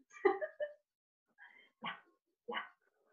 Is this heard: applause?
no